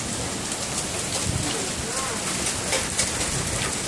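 Hail falling during an April hailstorm, a dense steady patter of ice pellets striking surfaces, close and continuous throughout.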